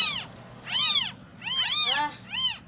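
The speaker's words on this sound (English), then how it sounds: "We're raising big kittens." Kittens from a rescued litter meow in repeated high, arching cries, about four close, loud calls with short pauses between.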